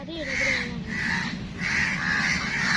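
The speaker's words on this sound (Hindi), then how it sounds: "ये कौवे जो है, एक चील का बच्चा है उधर, उसको मारने की कोशिश कर रहे हैं।" Several crows caw harshly in repeated bursts close by as they mob a young kite, their calls overlapping, with a steady low rumble of background noise underneath.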